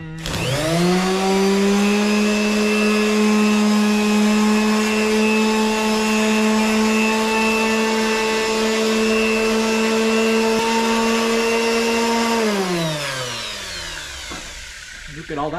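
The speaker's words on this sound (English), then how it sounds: "Orbital sanders has those hooks. Attach it there. Gotta plug it in." An orbital sander used for polishing runs with a steady, loud motor whine and hum that holds evenly, then winds down near the end, with no speech over it.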